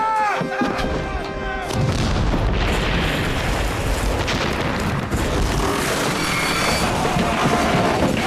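Heavy cannons aboard a wooden naval warship fire in a loud, booming salvo, the blasts rolling into a continuous roar of rumbling and crashing that fills the scene.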